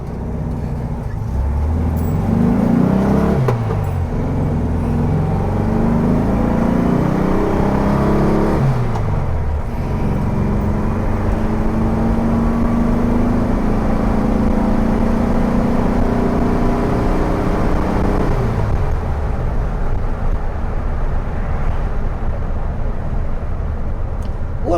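A 1964 VW Beetle on a test drive, its air-cooled engine droning steadily from inside the car with gear changes and rising, falling revs, road rumble underneath throughout.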